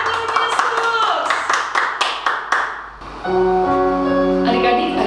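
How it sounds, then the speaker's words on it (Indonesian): Children clap their hands during a kids' worship service, a run of rhythmic, fairly loud claps slowing and fading out, followed by sustained music or singing tones. "beri tepuk tangan untuk Yesus"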